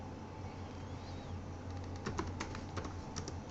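Code being typed on a computer keyboard during a programming lecture, a short run of quick, light key clicks over a steady background hum, close by with no speech.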